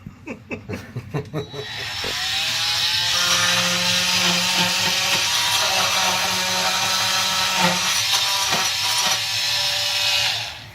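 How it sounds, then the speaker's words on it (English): An oscillating multi-tool trims down a wooden board during a home renovation, a loud continuous buzzing drone that runs steadily for several seconds after a few short bursts, close up and unbroken. "this is a multi-tool. We have just trimmed down this board"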